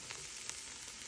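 Pansit noodles frying in a pan with oyster sauce, a steady close sizzle and crackle holding at even loudness throughout with no talk.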